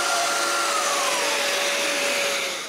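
A power tool cutting a 25 mm deep mortise in wood, a loud, steady high-pitched whirring roar with a faint descending tone, close up and without talk, easing off at the very end.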